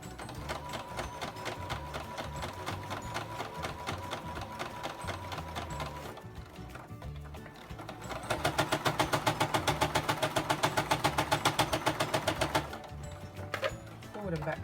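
A home sewing machine stitches skirt fabric in quick, even bursts, pausing briefly midway and then running faster and louder in a steady mechanical rattle.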